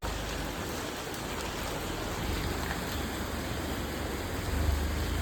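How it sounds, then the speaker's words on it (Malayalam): Heavy rain falls steadily during a downpour as floodwater starts rising at home, a dense continuous wash that stays loud and even from start to finish, with no voices over it. "മഴ നല്ല കൂടുന്ന സാഹചര്യമാണ് ഇപ്പോൾ"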